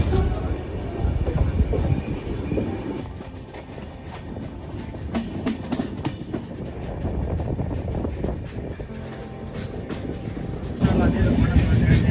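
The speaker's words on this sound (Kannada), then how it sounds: "ಫೈನಲಿ ಗೈಸ್, ಈಗ ನಮ್ಮ ಟ್ರೈನ್ ಬಲ್ಲಾರ್ ಶಾ ಡಿಪಾರ್ಚರ್ ಆಗಿದೆ" A train pulls out of Ballarshah station, wheels rolling steadily on the rails with a rhythmic clickety-clack and a brief squeal, heard from inside a carriage with faint voices in the background.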